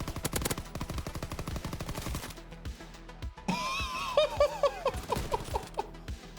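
A PPSh submachine gun fires in Call of Duty, fast rattling bursts up front, then after a pause more scattered shots with game effects and a faint laugh, moderately loud.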